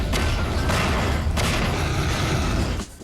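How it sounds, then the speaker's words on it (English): Explosive barrels blowing up in Half-Life 2 amid a fight with antlions, a dense, loud barrage of booming blasts and rumbling debris packed close together, cutting off abruptly near the end. "So gravity gun some explosive barrels and blow up some bugs."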